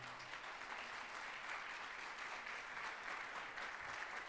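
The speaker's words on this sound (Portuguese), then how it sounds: "Aplauda o Senhor bem forte." Church congregation applauding hard during an evening worship service, a steady dense wash of many hands clapping throughout, even and sustained with no pauses.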